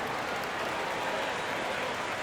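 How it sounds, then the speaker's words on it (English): Arena crowd noise in the NBA 2K26 basketball game at the AT&T Center in San Antonio, a dense, steady roar of cheering and applause with no breaks. "The crowd here in anticipation of their home team Spurs in an interconference battle"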